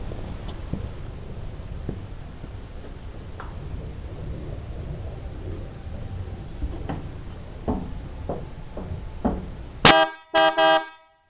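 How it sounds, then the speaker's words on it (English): After a stretch of faint background noise, a flatbed truck's loud horn blasts near the end, followed by two more short honks; the truck has both electric and air horns. "I got electric horn on it and air horn."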